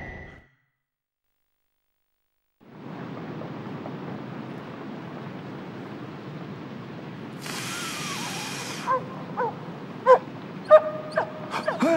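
A dog barks and yips in the video game Forbidden Siren 2 after a dog whistle is used, a few sharp calls near the end over a steady low ambient rumble and a brief hiss.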